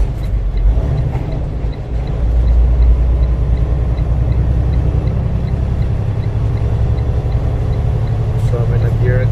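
A Freightliner truck engine is held in neutral and revved to speed up the cooling fan on an overheating engine: a loud, steady low rumble that swells and stays raised from about a third of the way in.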